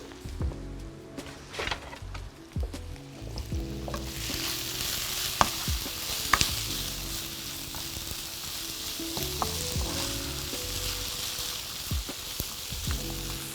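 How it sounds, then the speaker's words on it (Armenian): Chicken thigh meat seasoned with garlic and salt fries steadily in a pan, a continuous close sizzle with occasional sharp pops and a few soft stirring clicks early on, no voices. "Այսպես թողնենք տապակվի։"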